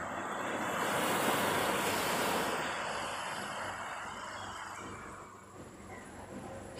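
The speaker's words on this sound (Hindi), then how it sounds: "क्योंकि समंदर की जो लहरें हैं ना, उनकी आवाज़ को सुनिए।" Sea waves break and wash steadily onto the shore as a continuous, broad surf roar, swelling slightly early on and easing toward the end, with some wind buffeting the microphone and no voices.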